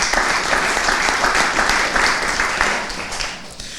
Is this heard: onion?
no